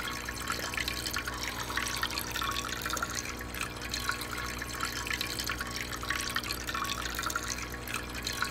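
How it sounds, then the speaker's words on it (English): A running water tap in the space-survival video game Stationeers, heard as a steady, continuous rushing stream with a faint dripping texture, close and unbroken, with no talking. "Let me just grab some water."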